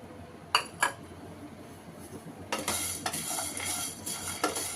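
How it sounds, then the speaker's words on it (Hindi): Whole spices dropped into a frying pan for dry roasting, two sharp clinks followed by a longer stretch of close rattling and stirring against the metal pan, with no talking. "हमारे ये तमाम मसाले अब हम डाल देंगे फ्राई पैन में और इसे भी हल्का सा हम भून लेंगे।"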